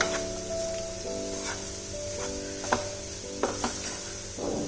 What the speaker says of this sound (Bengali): ততক্ষণ ভালো করে এটাকে চিচিঙ্গার সাথে কষিয়ে নেব।